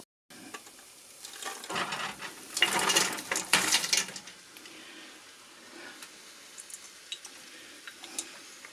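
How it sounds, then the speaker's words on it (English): Celery, still partly frozen, and carrots tumble into a pot of softened onions for ham hock soup, giving a burst of clattering, sizzling and stirring in the middle, then quieter scraping and small knocks. "So now the onions pretty much softened, so I'm about to put the vegetables in."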